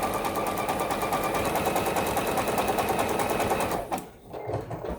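A sewing machine stitches quilt block pieces in a fast, even mechanical chatter that runs steadily for about four seconds, then stops abruptly, leaving faint handling noise.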